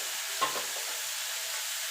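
Bottle gourd peels sizzle in hot oil over a high gas flame, making a steady, even hiss at moderate loudness, with one brief clink of a utensil near the start.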